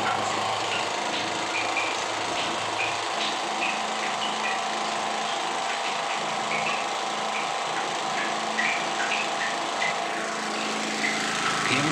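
A repaired small generator engine runs steadily after starting, a continuous high-pitched buzzing drone held at an even level, close and unbroken throughout.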